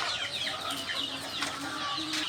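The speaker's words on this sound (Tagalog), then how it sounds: "ito yung mga native chicken na huluwano yan." Native chickens clucking in a farmyard, a steady busy run of short overlapping clucks and calls at moderate distance, with no talking.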